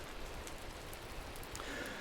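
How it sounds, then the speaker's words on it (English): Rain in the video game Minecraft, a faint, steady hiss of falling rain with soft scattered drop patter throughout. "Here comes the rain again."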